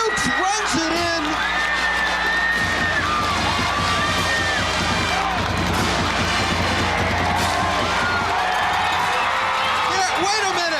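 Loud, sustained roar of a high school football crowd at a 1997 Fort Walton Beach versus Tate game, dense cheering with whoops and yells running through the whole stretch.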